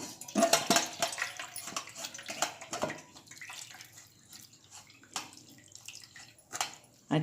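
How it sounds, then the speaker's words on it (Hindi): Running water splashes and trickles unevenly as homemade paneer is rinsed under it, with intermittent drips and sloshing. "अब इसे हम पानी डालकर धोएंगे"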